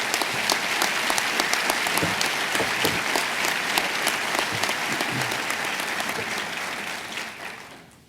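A crowd at a governor's state budget address breaks into dense, sustained applause with individual claps audible, keeping an even level before fading away at the end.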